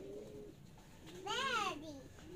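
Six-month-old pigeons coo softly nearby on a rooftop loft in Aparri, Cagayan, with one clear rising-and-falling call in the middle over faint background chatter.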